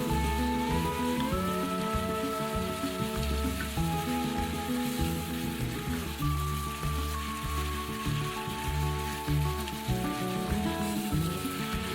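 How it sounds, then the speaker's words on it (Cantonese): Beef brisket being stir-fried in a wok with ginger, garlic, sauce, rock sugar and oyster sauce, a continuous crackling sizzle with rhythmic scraping and tossing throughout, close and steady with no talking. "將所有牛肉落鑊一齊翻炒"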